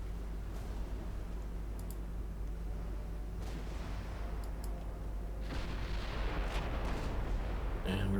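Naval guns of warships in Ultimate Admiral Dreadnought fire as a steady low rumble of distant artillery, with booming swells and faint clicks layered over a constant dense background.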